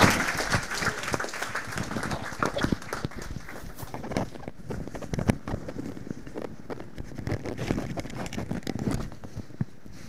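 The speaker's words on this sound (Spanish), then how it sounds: "un aplauso para" A conference audience at a pain management lecture gives a scattered round of applause, a patter of individual claps that is moderately loud at first and thins out unevenly over ten seconds.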